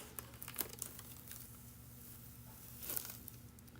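Paper being peeled up from a crafted surface gives soft, quiet crinkles and a couple of brief tearing rustles, close up and faint, with no voices.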